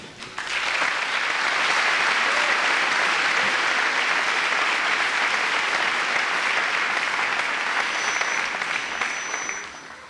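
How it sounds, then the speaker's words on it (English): A graduation audience applauds its high school valedictorians, a dense sustained clapping with scattered cheers that swells quickly, holds loud for several seconds and then tapers off, with no talking over it. "Let's give the valedictorians another round of applause."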